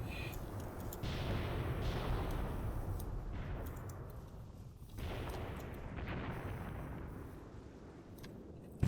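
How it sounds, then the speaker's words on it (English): Sustained machine gun fire and battlefield rumble in the Graviteam Tactics war game, dense continuous rattling with booming low thuds rising and falling over several seconds, no talk. "it's taking plenty of machine gun fire anyway"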